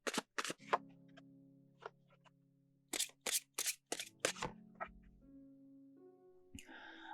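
Oracle cards shuffled by hand for a tarot reading, heard as close, crisp bursts of riffling and slapping in uneven clusters with short quiet gaps in between and no talking.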